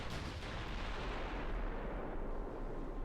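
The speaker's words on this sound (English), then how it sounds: "Eight-inch guns are finally starting to work at 9 kilometers." Eight-inch naval guns firing in the warship game Ultimate Admiral: Dreadnoughts, heard as a heavy, continuous booming rumble of gunfire that rolls on without pause.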